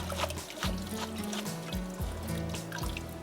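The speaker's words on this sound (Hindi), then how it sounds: "नूडल्स को पानी से निकाल लिया।" Cooked noodles lifted from their cooking water in a home kitchen, with a steady close trickle and dribble of water running off them alongside low background hum.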